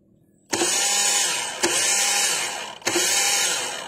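A Honda Cela 110 motorcycle engine is started by hand, then runs with a steady, loud, close mechanical whir that surges again twice during the run.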